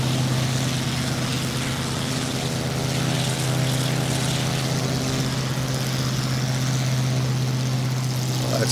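Propeller airplane engine in a VR flight simulator game, a steady droning hum with strong low harmonics that runs loud and unbroken throughout, with no talk over it.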